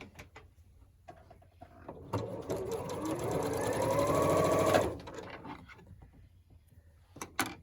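A sewing machine stitches quilt block pieces for a schoolgirl sampler quilt in one continuous run of rapid mechanical chatter lasting a few seconds, close and clear, framed by small clicks and handling noises before and after.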